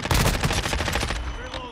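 Rapid, loud automatic gunfire crackles in dense bursts during a Call of Duty: Modern Warfare II match, then tapers slightly toward the end.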